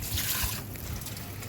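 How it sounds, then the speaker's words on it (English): Water runs out of an All Pond Solutions pressurised pond filter as its top is lifted, a steady close trickle and splash that eases slightly after the first moments. "Now we're just going to gently lift the top up. The rest of the water comes out."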